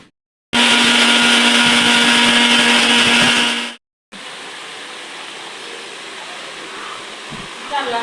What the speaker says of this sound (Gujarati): તો ફટાફટ મિક્સર લઈને આની ગ્રેવી બનાવી નાખી